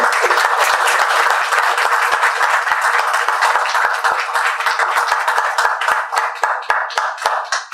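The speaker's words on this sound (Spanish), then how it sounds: "Por favor, un aplauso para el equipo que ha participado." An event audience applauds a participating team with steady, dense clapping that holds for several seconds, then gradually thins into separate, sharper claps near the end.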